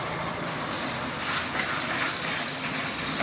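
Butter melting on a hot pan for egg chapathi gives a continuous broad hiss and sizzle, fairly loud and close, rising slightly partway through and steady throughout, with no voices.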